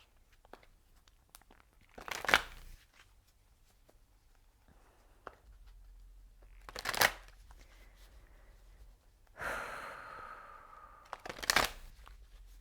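Oracle cards shuffled in short separate bursts of papery riffling and rustling, four distinct flurries with quiet gaps between them, close and fairly soft.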